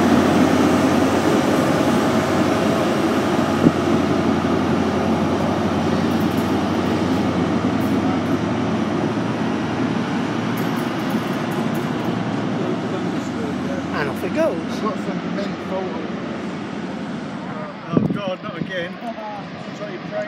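HST with class 43 power cars 43315 and 43318 pulling away from Doncaster station, a steady low diesel rumble filling the platform with some station clatter and a brief knock near the end, while someone talks over it.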